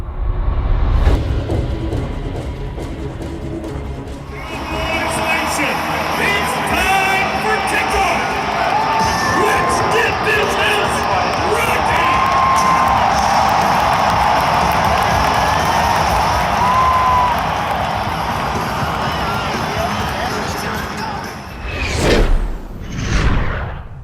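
A large stadium crowd at a football game roars and cheers continuously, a dense loud wash of voices that swells slightly, with a few whooshing bursts near the end.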